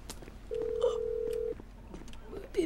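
A phone line rings while calling Pegasus Lifestyle Management in GTA V, with one steady ring tone lasting about a second, followed by quieter in-game background noise and faint tones.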